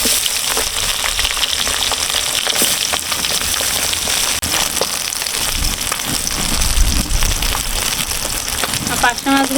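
Coral fish sizzle in hot oil in a pan, giving a loud, continuous rain-like crackle with occasional sharper spits, while a person talks over the frying.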